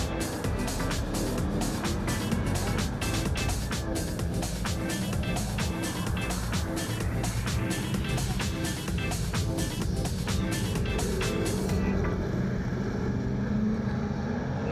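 Super saloon race cars at Central Motor Speedway, a loud continuous engine roar as the pack races around the oval, with rapid rhythmic pulsing and a pass-by sweep, under race commentary.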